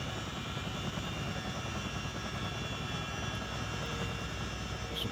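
A simulated Miltech Simulations CH-47D Chinook taxis at Tinson Pen in Kingston, Jamaica, in Microsoft Flight Simulator, a dense, unbroken rotor and turbine drone at a steady level with no talk.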